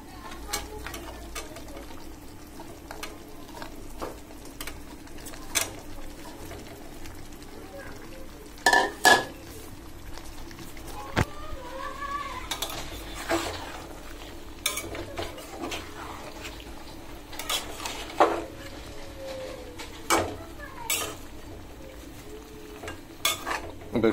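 Vegetables and long beans, with potato, are sautéed and stirred in a pan: a low steady sizzle broken by irregular spatula scrapes and metallic clatters against the pan, heard close over about twenty seconds.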